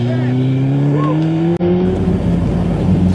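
A motorcycle ridden upright at speed on a race track, its engine a loud, close, steady drone with slowly rising pitch, continuing throughout with a brief dropout midway.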